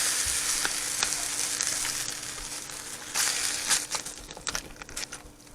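Milk is stirred into green beans and cream of mushroom soup in a pan, a bright bubbling sizzle with wet crackles and spoon scrapes building toward the end.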